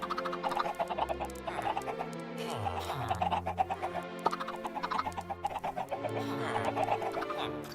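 Blocky Minecraft chickens on an automatic chicken farm cluck in a busy, overlapping chatter of short repeated calls, fairly close and steady throughout without any talking.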